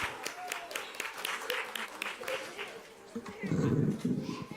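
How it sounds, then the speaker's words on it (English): An audience at a school board meeting applauds families, with scattered clapping mixed with cheering and chatter. A burst of louder crowd noise rises near the end. "Let's give all the families a round of applause."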